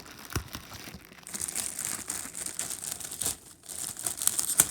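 A small plastic bag holding a TMNT Ultimates Super7 Leonardo action figure is worked open, giving close, irregular crinkling and crumpling with short tearing bursts throughout.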